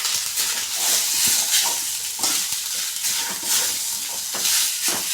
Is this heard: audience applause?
no